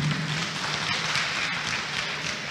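An audience applauds at a diploma ceremony for a professional licence programme in care, with steady, dense clapping sustained at an even level from start to finish.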